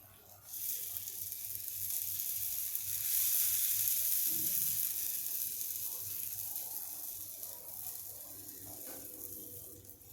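Dosa batter spread on a hot griddle gives a steady hissing sizzle that swells and then gently fades, heard alone at moderate loudness.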